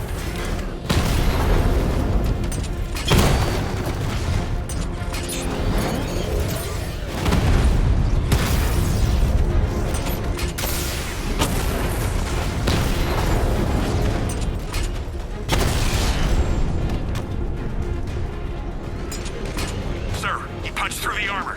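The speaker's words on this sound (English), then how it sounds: "Your 60mm cannon will penetrate these heavily armored units, but it'll take a few direct hits to destroy them." Tank cannon fire and explosions from the Batman Arkham Knight video game, with repeated loud booms and blasts over rumbling mechanical noise, and a radio-style voice talking throughout.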